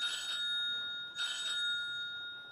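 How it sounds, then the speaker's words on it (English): A telephone rings in a quiet house, two short electronic ring bursts a moment apart, fairly faint and alone. "Augusta, the phone is ringing."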